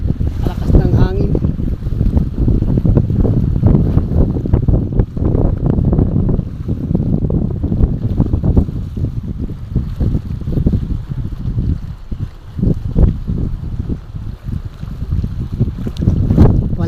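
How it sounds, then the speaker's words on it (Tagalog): Strong northeast monsoon wind roars across a harbour with moored boats, heavy buffeting gusts pounding the microphone continuously, with waves churning beneath and someone speaking briefly under the noise. "Malakas ng hangin."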